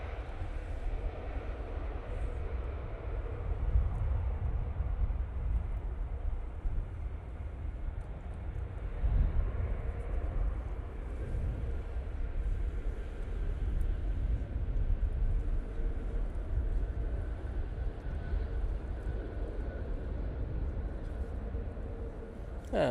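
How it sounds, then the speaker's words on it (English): Virgin Atlantic Airbus A380 touching down, a steady low roar of jet engines and rushing air held at a fairly even level throughout, heard from a distance. "Because Virgin Atlantic A380 now touching down."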